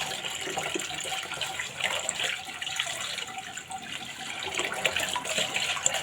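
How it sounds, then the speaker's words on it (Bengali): Tilapia fish being washed under a running tap in a kitchen sink, a steady rush of water with small splashes as the fish is handled, close and continuous throughout. "এখন ভালো করে মাছটা ধুয়ে নিচ্ছি"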